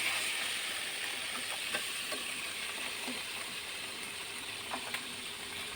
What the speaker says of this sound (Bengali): ট্যাংরা মাছগুলোকে হলুদ, মরিচ আর লবণ দিয়ে ভালোভাবে মেখে হালকা মতন ভেজে নিব।